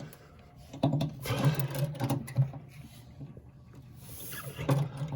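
A cheap Amazon tap wrench turns in short, scraping, creaking bursts as it cuts threads for a D-ring anchor in a Maverick XL, close and irregular with quiet gaps between strokes.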